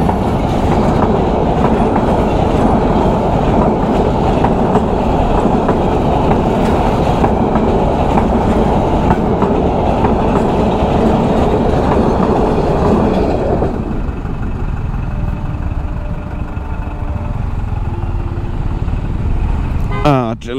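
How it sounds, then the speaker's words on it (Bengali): A train passes on the Elanga railway line at a level crossing, a loud continuous rumble and clatter of rail wagons that fills the first fourteen seconds, then drops away to quieter road ambience as the vehicle crosses the tracks. "আমাদের এখানে এটা হচ্ছে এলাঙ্গা ট্রেন লাইন, ট্রেন চলে আসছে।"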